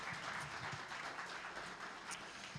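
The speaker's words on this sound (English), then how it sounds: "So we'll give Dan Ferro a nice big round of applause." An audience applauding for a performer named Dan Ferro at a live show, a faint, distant patter of clapping hands holding steady throughout.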